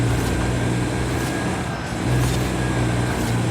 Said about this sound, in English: I hear something resembling a turbo in this thing.